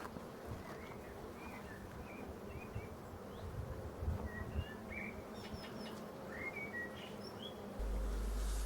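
Honeybees hum faintly and steadily inside a hive, with scattered thin chirps and a low rumble at the end.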